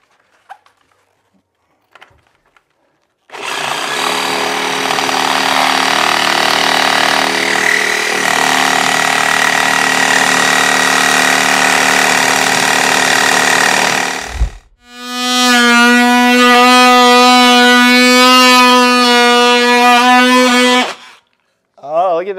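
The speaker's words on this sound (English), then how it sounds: "there can be a lot of shake in a sawzall because it's such an aggressive tool" A reciprocating saw cuts into a floor to fit an outlet box, a loud, continuous harsh buzz lasting several seconds, then a brief pause and a second steady, tonal whining burst, with no talking over it.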